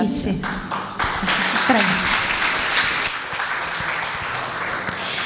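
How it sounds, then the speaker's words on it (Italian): An audience at the Basilicata International Film Festival in Ruvo del Monte applauds a guest, clapping that swells and continues under a brief spoken word and some nearby voices. "Applauso per te"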